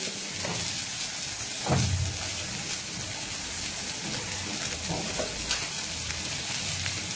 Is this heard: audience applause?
no